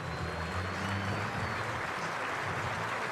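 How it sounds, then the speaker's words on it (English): A distant stadium crowd at a college football game, Mercyhurst versus South Dakota State, murmurs and applauds in a steady, diffuse roar while an injured player is helped onto a cart, with a faint low voice underneath. "And you hear the crowd's response as he's being helped onto the cart."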